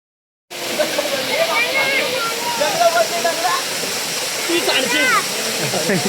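A hidden waterfall near Kalyan and Titwala rushes in a dense, steady roar that starts abruptly after a brief silence and fills the rest, with people talking over it.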